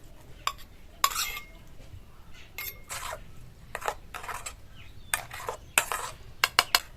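Turmeric-and-salt-coated shrimp are tipped into a pan and mixed, producing a series of sharp, close metal clinks and scrapes of a spatula on the pan, spaced irregularly with quiet gaps between them and no talk.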